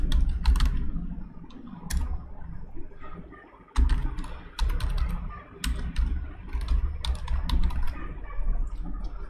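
A computer keyboard clatters as a channel name is typed, with rapid, irregular bursts of close key clicks, a brief pause partway through, and no voices.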